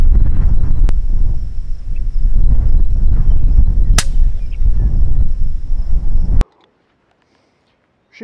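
A .223 Remington rifle firing 55 grain Hornady SX rounds, outdoors: three sharp, loud cracks spaced a few seconds apart over steady wind noise, then a sudden near-silence.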